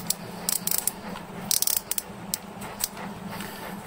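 The drag clicker on a Shimano Antares DC MD fishing reel ticks as it is loosened, giving close, crisp clicks in irregular bursts over a low steady background.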